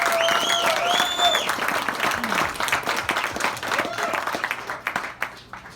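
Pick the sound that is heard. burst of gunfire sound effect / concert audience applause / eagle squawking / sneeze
concert audience applause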